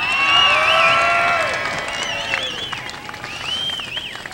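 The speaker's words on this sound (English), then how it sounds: "Give yourselves a big round of applause." A large crowd at a rally applauds and cheers together, sustained clapping mixed with whistles and high shouts that swell early and then ease slightly while continuing throughout.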